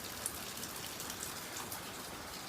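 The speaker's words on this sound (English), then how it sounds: "it's a pretty steady rain out" Steady rain falls outside in a dense, even hiss of drops pattering on surfaces, moderately quiet and unbroken with no voices.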